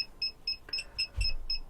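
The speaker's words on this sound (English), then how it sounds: "the beeping you can hear is the main control panel just up here" A motorhome's main control panel, wired to the fridge, in a 2018 Swift Bessacarr E599, beeps in a steady run of short, evenly spaced electronic tones, about seven in under two seconds, moderately close in a quiet interior.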